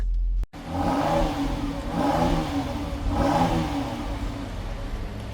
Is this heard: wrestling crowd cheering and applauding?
no